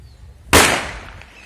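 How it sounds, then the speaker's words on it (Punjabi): A single firecracker set off by children in a village bursts with a sharp, loud bang followed by a brief fading echo, after quiet background. "ਬੱਚੇ ਪਟਾਕੇ ਲੱਗੇ ਹੋਏ ਵਜਾਉਣ"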